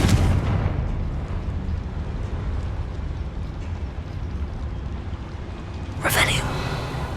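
A blasting curse explodes in a Harry Potter wizarding game, a sharp bright burst arriving near the end and rising above a dense, steady rumble of game noise and talk.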